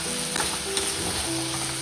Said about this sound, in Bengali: আজকে মাটন রান্না করছি।